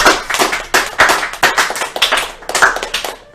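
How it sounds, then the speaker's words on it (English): An audience at a speedrunning marathon event claps loudly and close to the microphone. The applause comes as a fast, uneven burst of individual claps that keeps going for several seconds and fades a little at the end. "So, round of applause for Becca Richter."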